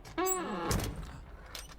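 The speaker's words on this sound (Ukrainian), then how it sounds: "Ось так от ми відкрили наші перші двері." A door opens in the video game Doors: Paradox with a low thunk and a brief creaking slide, just after a short voice sound, close and fairly quiet.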